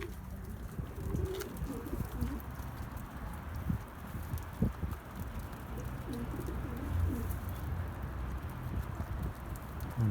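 A large crowd of homing pigeons coos continuously around a loft, overlapping low throaty calls forming a steady near chorus, with occasional wing flaps and scuffling.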